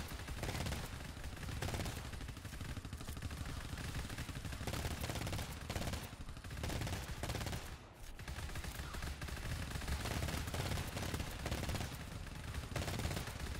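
Automated turret in a video game firing bullets in sustained rapid bursts, loud and dense throughout with a brief lull near the middle.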